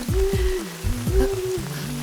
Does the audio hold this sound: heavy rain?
yes